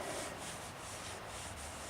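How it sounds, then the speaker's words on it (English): A wooden bow drill grinds rapidly back and forth against a fireboard for friction fire, giving a dense, scratchy rubbing with faint rhythmic strokes. Close and continuous, with no voices. "That's the bow drill, everybody."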